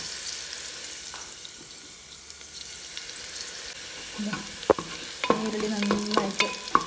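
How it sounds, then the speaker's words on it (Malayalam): Onions roast in a pan for chicken biryani with a soft continuous sizzle, joined near the end by several sharp stirring scrapes and clanks of a spoon against the pan. "നീരുള്ളി നന്നായിട്ട് റോസ്റ്റായിട്ട് വന്നിട്ടുണ്ട്."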